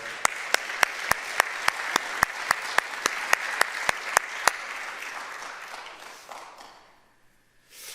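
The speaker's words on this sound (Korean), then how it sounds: "뜨거운 박수를 한번 보낼까요?" A church congregation applauds mothers during a Mother's Day service. Sharp, evenly spaced close claps ring out over a broad wash of applause, which stops abruptly and then fades to near silence.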